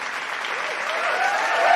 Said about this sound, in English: y'all in the chat really does deserve a round of applause